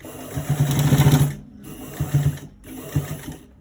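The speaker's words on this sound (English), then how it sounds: "now I'm stitching it from the top, from the first to the end part" A sewing machine stitches fabric in close, loud rattling bursts, first a long run and then shorter ones, with brief pauses in between and no talk.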